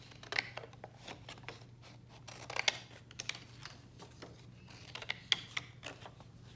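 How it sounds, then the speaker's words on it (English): Plain scissors snipping paper while making winter greeting cards, a quiet series of irregular close crisp cuts and paper rustles over a steady low background hum. "On this, I'm going to use the plain scissors."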